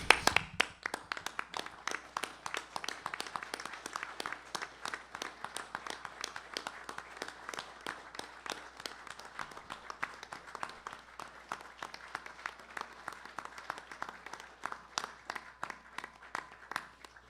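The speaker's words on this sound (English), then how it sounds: "Let's stand up and give a round of applause to these people." A standing round of applause at a commission meeting, with steady, fairly quiet clapping from a room of people lasting throughout.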